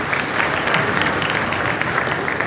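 Guests at a college all-sports awards reception break into applause, a brief burst of many hands clapping densely and evenly at close range with no voices over it.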